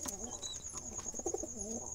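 Wild jungle pigeons in a loft give soft, low cooing calls, a few rolling coos close by against faint background noise with a thin high whine running throughout.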